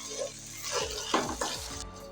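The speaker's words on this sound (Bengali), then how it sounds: "এখন আমি ভালো করে চালগুলো ভেজে নেব" Rice frying in a pan with ginger paste for Bangladeshi morog polao, a soft steady sizzle broken by several scraping spatula strokes across the pan, close up with no talking.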